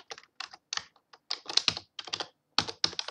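Close, crisp clatter of a computer keyboard as someone types Java code, irregular clusters of quick keystrokes with short gaps, no voice.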